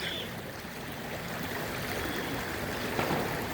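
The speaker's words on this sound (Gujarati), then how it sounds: "છેક પોસ્ટલ સુધી આ નદી ચાલી રહી છે" Floodwater from heavy rain runs knee-deep through a street in Mahuva, making a continuous broadband rushing and gurgling with no talk.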